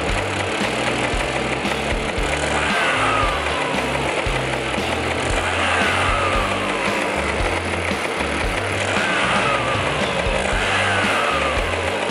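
A Lambretta scooter engine on a custom ignition runs steadily at a fast idle in a garage, its mechanical buzz continuous and close for the whole stretch with no talk.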